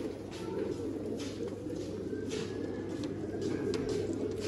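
Pigeons kept by a fancier in a loft setup coo steadily and close by, a dense low throaty murmur of several birds overlapping throughout.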